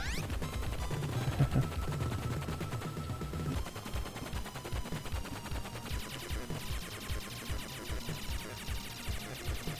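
Rapid synthesized gunfire from the Cyber Core shooter on the TurboGrafx-16 (TG-16) fires in continuous bursts with chiptune music under it. The shots repeat fast and evenly, with no voices.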